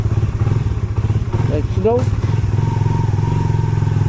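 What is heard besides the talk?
motorcycle riding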